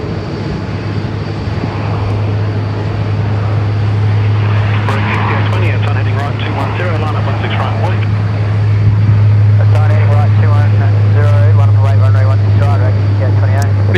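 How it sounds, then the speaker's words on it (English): A Xiamen Air Boeing Dreamliner jet moves at Sydney Airport, its loud steady engine hum droning throughout while people talk nearby and radio chatter breaks in. "The Xiamen Air Dreamliner coming out to play."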